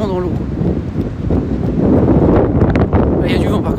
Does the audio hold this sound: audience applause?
no